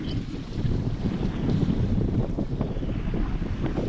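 A sailboat moves at sea in about 19 knots of apparent wind, with steady loud wind buffeting the microphone over rushing water, continuous and close.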